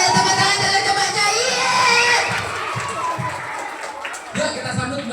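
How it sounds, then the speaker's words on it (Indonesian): Schoolchildren at an Isra Mi'raj celebration at SDN Antirogo 02 elementary school clap and shout together in a lively, loud crowd, with voices mixed into the noise. "Tepuk tangan dulu untuk Mbaknya."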